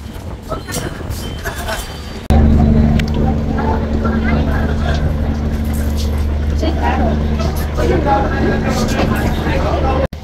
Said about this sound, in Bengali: লঞ্চ এখন আস্তে আস্তে হচ্ছে বার্থিং করতেছে কালীগঞ্জ লঞ্চ ঘাটে